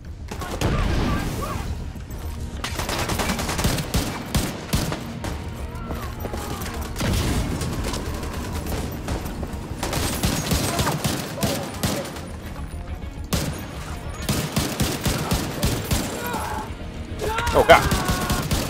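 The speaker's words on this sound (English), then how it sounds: "I love this machine gun." Machine gun fire in The Division 2 during four-player co-op combat, sustained rapid bursts with heavy booming shots layered throughout, loud and dense, with voices shouting over the gunfire.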